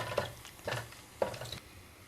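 Whole spices, cinnamon, cloves and three cardamom pods after bay leaf and star anise, splutter in hot oil for a green peas potato kurma: faint sizzling with three or four soft crackling pops, each followed by a short hiss.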